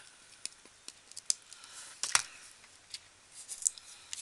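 Small scissors snipping material for a handmade Christmas bauble, a series of crisp close clicks and cuts with one sharper snip in the middle, spaced irregularly and fairly quiet with no talking.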